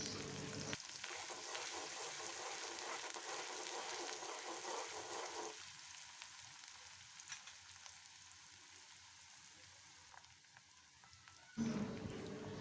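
Chopped onion fries in hot oil in a pan for a dried-fish and sweet potato greens dish; a faint, steady sizzling hiss that shifts in tone midway and stops abruptly near the end.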